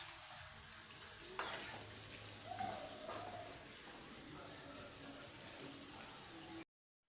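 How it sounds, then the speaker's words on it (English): Onions frying in a pot for beef biryani give a soft, steady sizzle, with a couple of sharp stirring knocks early on before it fades to quiet. "I'm going to be turning the onions until they are well cooked."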